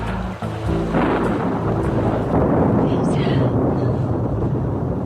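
A loud thunderstorm with a rolling crack of thunder breaking over steady heavy rain, close and continuous, with a brief low rumble at the start.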